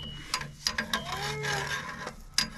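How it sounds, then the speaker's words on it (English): A regular filter wrench tightening a car's oil filter during an oil change, with a few sharp scraping clicks and creaking grinds heard close up, separated by short pauses. "I'm just going to take a regular filter wrench here."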